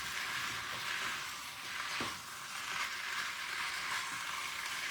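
Chicken and peppers cooking in a small pan, a steady, broad sizzle of frying throughout, with a brief stirring scrape midway and no talking.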